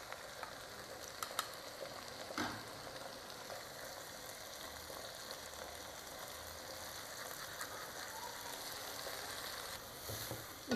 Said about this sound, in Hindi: इस मसाले के साथ अच्छी तरह मैंने इसको फ्राई करना है